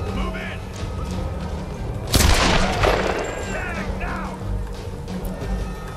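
Gunfire in the Tomb Raider video game: a dense, continuous bed of battle noise with a sharp loud boom-crack near the middle, followed by whizzing debris, with someone talking throughout.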